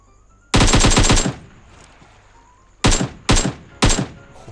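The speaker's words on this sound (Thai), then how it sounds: "ข้างหลังมีเสียงปืน" Automatic rifle fire in PUBG Mobile, likely an AKM: one long rapid burst of about eight shots, then three short separate bursts, loud and close, with no talk.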